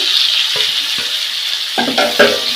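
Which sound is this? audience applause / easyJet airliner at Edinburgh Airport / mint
mint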